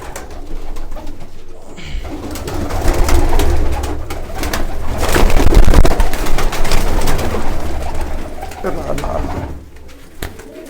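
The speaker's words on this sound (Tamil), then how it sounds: "இப்போ இந்த புறால வந்து பார்த்தீங்கன்னா எது ஆண் புறா எது பெண் புறான்னு இதில் பார்க்க முடியும்" Pigeons coo steadily inside a pigeon farm, a dense chorus of overlapping calls that swells louder toward the middle, with rustling and flapping mixed in.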